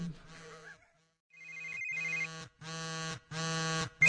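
A voice imitates a telephone bell ringing in a comedy impression act, with repeated sustained tonal bursts that grow louder and more regular toward the end after a brief pause.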